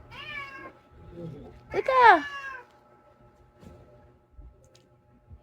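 A cat meows loudly and close in a single rising-and-falling call, with a few softer sounds around it, while a person talks to it indoors.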